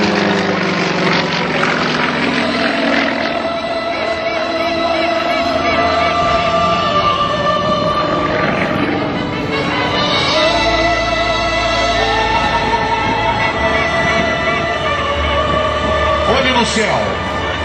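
Sukhoi SU-31 aerobatic propeller plane at an air show, its engine droning loudly and shifting in pitch as it manoeuvres and regains speed, with a commentator talking over it throughout.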